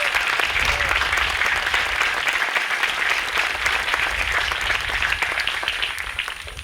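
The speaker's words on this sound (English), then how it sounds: "Let's give them a big round of applause." Sustained applause from a graduation ceremony audience at a school, a dense, steady wash of many hands clapping, loud and close, tapering slightly toward the end.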